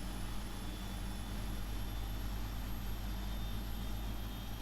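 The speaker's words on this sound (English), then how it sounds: "just so I can show you the other engine. Spooling up very nicely." An aircraft engine in the Prepar3D flight simulator gives a steady, fairly quiet drone with a high whine on top, continuous and unchanging throughout.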